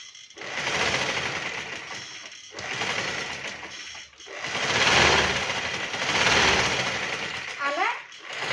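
Sewing machine stitching close by in several runs of rapid, steady whirring that rise and pause between bursts, while someone talks over it.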